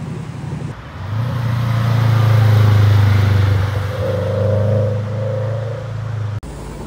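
A Citroën SM drives past, its engine note swelling as it nears and then fading away, with a steady low rumble lasting several seconds.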